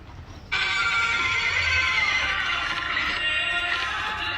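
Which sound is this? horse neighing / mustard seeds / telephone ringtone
horse neighing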